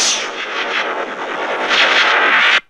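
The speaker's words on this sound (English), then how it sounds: "Ray and Egon quickly turn around and fire a blast from their particle throwers." A Ghostbusters particle thrower fires a sustained, loud roaring blast of energy at a cleaning cart, a dense crackling rush that holds steady for over two seconds before stopping abruptly.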